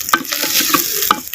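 Small pieces of ginger and garlic fry in ghee for a white chicken kurma, giving a steady close sizzle broken by several sharp scrapes and taps of a stirring spoon.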